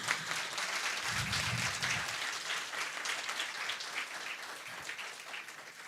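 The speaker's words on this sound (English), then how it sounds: "I think sir deserves a big round of applause." An audience at an endowment lecture on advanced technologies and warfare applauds the lecturer, a faint, distant, sustained patter of clapping with a brief low murmur early on.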